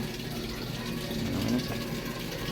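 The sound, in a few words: water filling a Samsung top load washing machine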